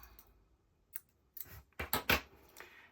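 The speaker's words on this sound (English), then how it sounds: "I'm going to take the stitch marker out and I'm going to cut the yarn" Scissors snip through yarn during a crochet Easter bunny egg holder project, a few quiet separate snips with the two clearest close together near the end, in an otherwise quiet room.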